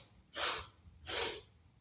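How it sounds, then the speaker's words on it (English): A child sniffs during bunny-breathing kids' yoga: two short, breathy nasal inhales, each about half a second long and separated by a brief pause, fairly faint and close. "sniff 3 times"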